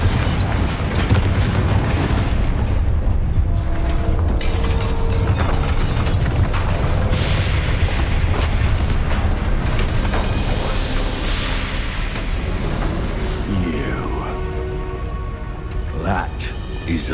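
Confringo fire-blast spell in Hogwarts Legacy, a loud dense explosive burst and crackling debris amid continuous game noise and rumble, with brief voice lines over it.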